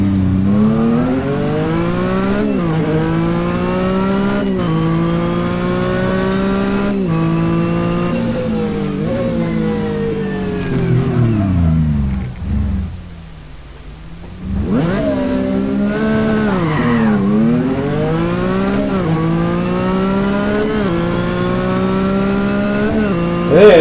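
Engine revving from a car in the driving game Assetto Corsa, loud and continuous with rising and falling pitch through gear changes, a brief dip as the engine drops off mid-run before pulling hard again.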